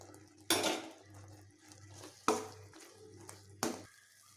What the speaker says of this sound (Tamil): தேங்காயும் ஏலக்காய் பொடியும் சேர்த்துட்டு ஒரு 5 நிமிஷம் நல்லா கிளறி விடணும்